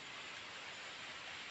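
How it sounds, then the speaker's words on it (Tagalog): Steady heavy rain pours outside during a survival camping trip, a dense, even hiss of downpour filling the whole stretch with no break and no voices. "naulan pa sa labas"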